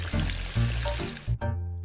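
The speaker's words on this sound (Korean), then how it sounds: "이제 160도 이상 고온의 기름에 넣어 튀기면 황금빛 돈가스가 탄생하는데요" Pork cutlet deep-frying in oil above 160°C crackles and sizzles steadily, a dense close hiss with a brief low thump near the end.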